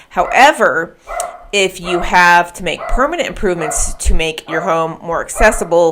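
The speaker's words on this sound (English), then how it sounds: "sorry for the dog barking" A dog barks in short yapping bursts in the background of a home, mixed under continuous speech from a person talking close by.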